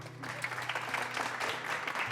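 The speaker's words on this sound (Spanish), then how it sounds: "Pues un aplauso, ¿no?" Short burst of applause from a small group gathered at a foundation celebration in a TV drama scene, steady and moderately loud for about two seconds with no talking over it.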